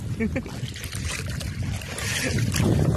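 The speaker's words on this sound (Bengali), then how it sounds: "জল কম তাই ঠেলে ঠেলে নিয়ে যাচ্ছি নৌকা" A boat pushed by hand through shallow water in a flooded field, with steady splashing and swishing of water and wind noise, close by and under people talking.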